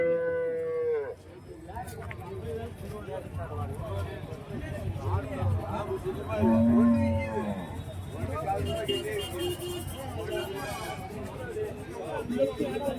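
A dairy cow at a cattle market gives several drawn-out moos amid a noisy crowd, with people talking nearby throughout.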